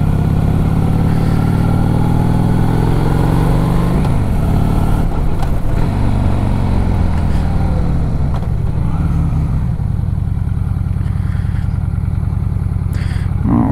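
A 2001 Honda Shadow VLX motorcycle engine runs steadily at partial throttle after carburetor cleaning and a shimmed needle, a loud, close, continuous V-twin drone with small fluctuations in pitch and no talking.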